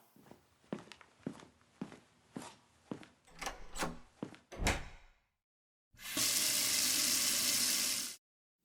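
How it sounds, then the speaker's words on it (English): Footsteps and a cupboard or door knock across a quiet kitchen, then a tap runs steadily for about two seconds into a glass before shutting off. "I took a glass from the dish rack and filled it up with tap water"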